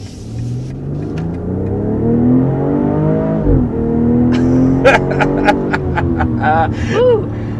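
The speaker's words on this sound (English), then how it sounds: "Some backfires and some kind of pops and cracks when you get it in the sport mode with this exhaust." A compact luxury SUV engine in sport mode revs and rises in pitch, then a burst of sharp exhaust pops, crackles and backfires rattles off near and loud.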